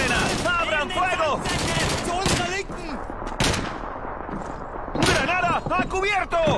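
Rapid bursts of gunfire, like machine-gun and rifle fire, rattle through a video game firefight, with dense volleys at the start and again near the end and a quieter stretch between, while voices shout over the shooting.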